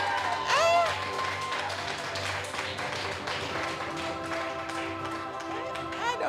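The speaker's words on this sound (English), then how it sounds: "Clap them again and clap the parents too" An audience claps at a coding camp commencement ceremony, with steady, moderately loud applause running throughout and scattered sharper claps and voices mixed in.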